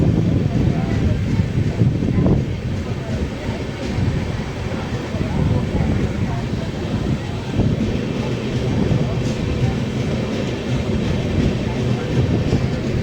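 A train rolls along the tracks on a rainy monsoon journey out of Secunderabad. It gives a steady low rumble with soft clicks and wind buffeting the microphone, and the noise holds even throughout.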